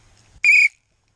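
A whistle is blown in one short, shrill blast of about a quarter second, loud and close, following quiet low rustling.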